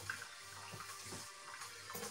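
Tap water running steadily into a sink while mushrooms are rinsed in a kitchen, a quiet continuous splash with a few brief surges, alone without talk.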